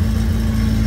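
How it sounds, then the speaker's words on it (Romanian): A BMW E36 car engine idles steadily nearby after an accident, a low, even rumble with a constant hum and no voices. "cam așa sună motorul acum"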